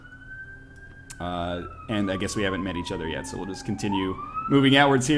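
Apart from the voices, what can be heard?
police car siren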